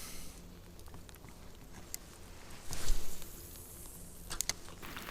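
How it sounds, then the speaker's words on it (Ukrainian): Rain falls on a river around a small fishing boat during late-afternoon pike fishing, a steady soft patter and hiss with occasional light ticks and a brief louder swell midway. "йде зараз дощ"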